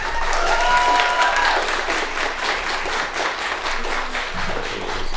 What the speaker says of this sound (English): We don't allow applause from the gallery.